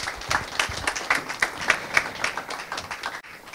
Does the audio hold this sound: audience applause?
yes